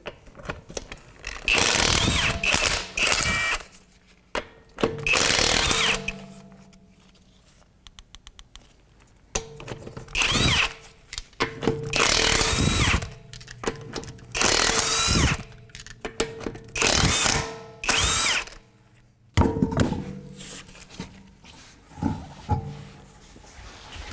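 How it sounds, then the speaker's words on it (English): A power tool spinning a 22mm socket to take off the wheel of a 2008 Acura MDX, heard as repeated bursts of loud whirring and rattling separated by quiet pauses, close by with no talking. "we're going to take our wheel off and use a 22mm socket."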